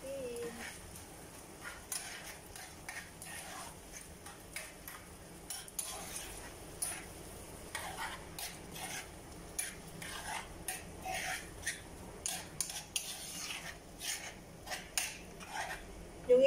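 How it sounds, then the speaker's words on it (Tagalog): A utensil stirring sisig with egg in a pan, producing repeated scraping and clattering taps in an uneven rhythm, close and moderately loud, with a voice speaking at times. "Haluin natin."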